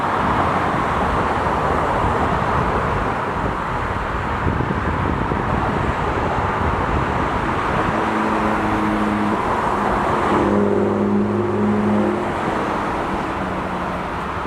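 Steady road traffic rumbles throughout, a continuous low wash of passing cars with some wind noise, no voices.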